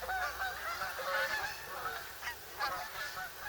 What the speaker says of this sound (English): listen to the geese flying by. A whole flock of them.